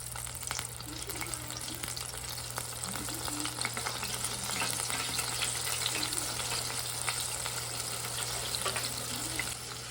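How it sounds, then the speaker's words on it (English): Food deep-fries in oil inside a T-fal deep fryer, making a loud, continuous, even bubbling sizzle with fine crackles that holds steady from start to finish, with no speech. "They're gently in the oil now, and I'm going to throw the lid on and let it do its magic."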